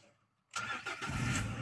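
A Peugeot 307 CC with 35,000 km on it starts after a quiet pause, catching instantly with a loud burst that settles into a steady, close idle.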